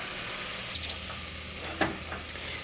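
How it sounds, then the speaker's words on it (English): Gram flour and vegetables are stirred together in a hot pot for Sindhi kadhi, with a soft continuous sizzle and a brief scrape of the spoon, and no voices. "So now I'm going to mix everything."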